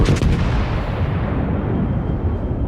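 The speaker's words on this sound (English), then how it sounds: "This is just basically long range gunnery" Long-range main-battery fire from the battleship Mutsu in World of Warships: one heavy, loud boom at the start that rolls into a long, fading rumble.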